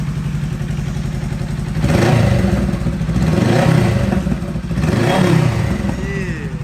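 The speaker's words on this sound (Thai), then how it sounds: "เดี๋ยวเราจะลองเบิ้ลให้ฟังนะครับนะ" A 2020 Honda Rebel 500 with an aftermarket baffled exhaust, idling loud and close, then revved in three strong blips, each swelling and falling back to a rumbling idle.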